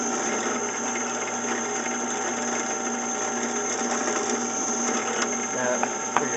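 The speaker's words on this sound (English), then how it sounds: "We got to drill down in about, not quite a 1/4 of an inch, maybe about 3/16." A drill bores a small hole, about 3/16 inch deep, into the fingerboard of a cigar box guitar neck for a marker rod. Its motor whine runs steady and close throughout, with a faint background hum.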